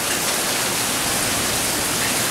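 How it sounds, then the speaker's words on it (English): Steady rain falling on a rainy evening in Louisiana, a dense continuous hiss that stays even and fairly loud throughout, with no voices. "rainy evening"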